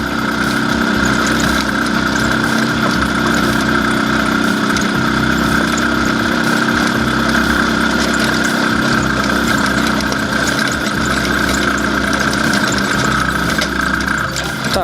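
An IZh Planeta 5 motorcycle engine labors steadily uphill in first gear on a rough, potholed road, a loud continuous drone with a throbbing low pulse and no speech.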